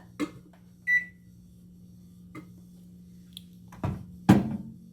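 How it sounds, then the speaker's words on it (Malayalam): A microwave oven heating food hums steadily at a low pitch, broken by a short beep, clunks of the door and handling, and a louder knock at the end. No one speaks. "അപ്പോൾ നമ്മൾ ജസ്റ്റ് ഇതൊന്ന് മൈക്രോവേവിൽ വെച്ച് ചൂടാക്കി എടുക്കാൻ വേണ്ടിയിട്ട്"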